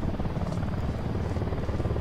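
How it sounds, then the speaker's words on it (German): A helicopter in the video game Ghost Recon Wildlands drones with a steady, close, heavy rotor rumble that fills the whole moment, with no distinct gunshots standing out. "der Helikopter feuert da"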